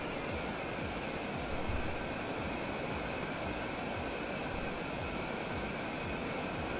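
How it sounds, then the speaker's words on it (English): A black drone in the video game Scrap Mechanic flies along with a steady, droning engine hum, constant and moderately loud throughout with no talking. "Looks like the black drone's finally getting down the path."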